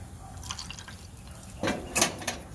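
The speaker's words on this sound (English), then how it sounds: "So I am going to drain some of this grease off. Just throw it in a cup." Bacon grease poured from a pan into a cup, heard as a few soft liquid splashes and drips, faint at first and then clearer near the end.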